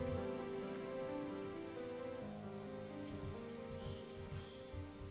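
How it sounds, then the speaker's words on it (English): Acid rain pours down in Terraria with the Calamity mod over the Wasteland Seas, a constant hissing downpour layered beneath steady sustained game music. "a toxic downpour falls over the Wasteland Seas again"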